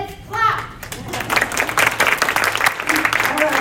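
An audience at a general meeting claps for a guest speaker, a dense burst of applause filling the room right after a call to clap, with children's voices mixed in.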